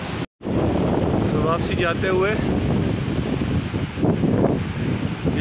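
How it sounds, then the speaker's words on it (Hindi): Strong wind roars steadily and loudly across the microphone on a steep mountain cycling track in Kalash Valley, with someone talking briefly over the gusts. "हवा तेज़ चली हुई है"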